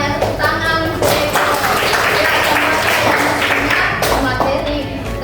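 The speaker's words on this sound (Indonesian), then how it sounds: "Ya, tepuk tangan." A classroom of students clapping during a Hindu religious education lesson, loud and close, with a pause in the middle before a second burst, and children's voices mixed in.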